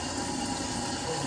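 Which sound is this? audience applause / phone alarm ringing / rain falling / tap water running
tap water running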